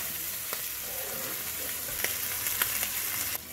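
Guanciale frying in a pan for spaghetti carbonara, a steady close sizzle of rendering fat with occasional sharp crackles and pops, no voices.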